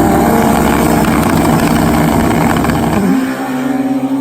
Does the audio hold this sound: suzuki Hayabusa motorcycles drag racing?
yes